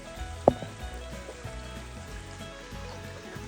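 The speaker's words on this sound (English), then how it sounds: "Tiny little flow, but as you can see, it's murky from all the rain coming down the mountain." A small mountain stream on the Appalachian Trail runs swollen and murky after heavy rain, giving a steady rushing wash with a brief knock near the start and no voices.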